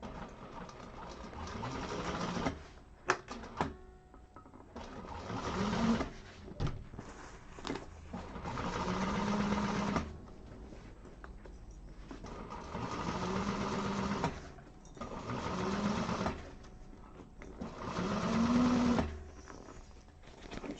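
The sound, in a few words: sewing machine stitching a seam across fabric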